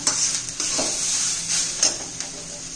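Chopped onions for mutton masala are stirred and fried in a pan, giving a steady close sizzle broken by soft scraping stirs and a few light clinks of the utensil over roughly three seconds.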